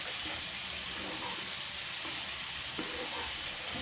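A rice mixture sizzles and bubbles in a pot as it is mixed, a continuous close hiss with faint stirring knocks underneath.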